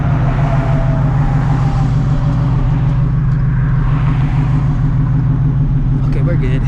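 Supercharged ESS G3R Shelby GT350 driving, a loud deep constant engine drone and road rumble close inside the car, holding steady throughout.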